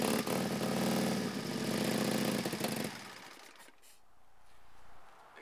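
An Indian Scout Classic motorcycle engine cranks in freezing cold weather, a loud, steady mechanical churning for about three seconds that then cuts off, leaving a quieter, fading tail, close by with no talk.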